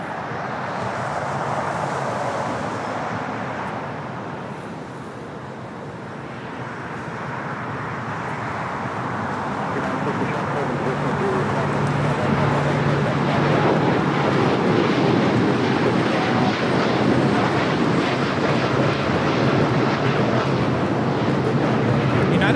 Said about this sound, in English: Flight 32 taking off to Tokyo Narita on the 787-9 Dreamliner